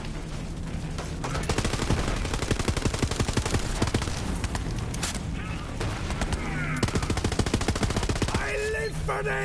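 Dense, continuous automatic gunfire from a weapon in Borderlands 3 on Mayhem 4 crackles loudly for the whole stretch, with rapid overlapping shots, brief mechanical reload clicks and game effects mixed in.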